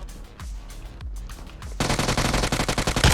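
Gunfire in PUBG Mobile: a few spaced single shots give way to a loud, rapid automatic burst, steady and close, without talk.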